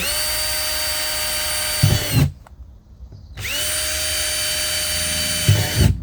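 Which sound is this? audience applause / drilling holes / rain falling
drilling holes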